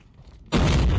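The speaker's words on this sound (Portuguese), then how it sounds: "Ai, granada!" A grenade explodes in the video game COD Mobile: a quiet half second, then a sudden loud, dense burst that holds for the rest of the moment.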